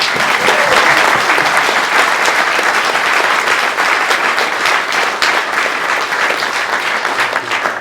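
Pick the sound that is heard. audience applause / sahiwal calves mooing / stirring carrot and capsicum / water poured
audience applause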